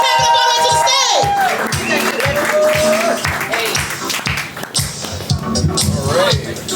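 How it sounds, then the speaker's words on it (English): An audience at a poetry slam claps and cheers loudly, with whoops and shouts over dense applause and a host's voice talking through the noise. "Clap it up all the way to the stage"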